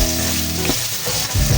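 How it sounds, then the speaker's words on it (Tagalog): Ginger and garlic fry in a hot pan with turmeric nearby, a steady close sizzle that is briefly stirred, then flares louder again toward the end, with no talking. "Pagsabayin na po natin yung luya at yung ating bawang."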